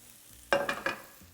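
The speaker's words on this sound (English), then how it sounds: "This is gonna start sizzling up." Garlic goes into melted butter in a hot pan and sizzles, a few quick sizzling bursts with light stirring noise, brief and close, with no voices.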